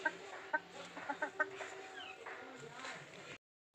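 A few short, sharp clucks from turkey hens up close, panting in the heat, followed by softer murmuring calls, then the sound cuts off abruptly.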